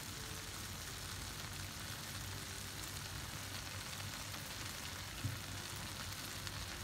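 Okra fries in butter with a few drops of lemon juice, giving a faint, steady sizzle with a soft crackle throughout and no talk.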